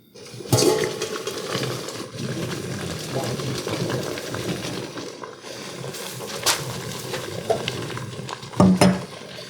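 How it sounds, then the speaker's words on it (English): Steady rumbling bubble and churn of pasta water at a rolling boil in a pot, continuous and close, with a couple of sharper clanks near the end. "I got the pasta water boiling."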